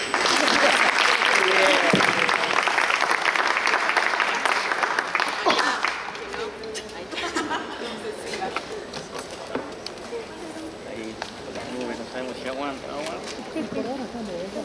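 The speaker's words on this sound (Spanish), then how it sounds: "Aplausos." Loud applause from a crowd at a university panel discussion for the first several seconds, then it thins out and voices take over.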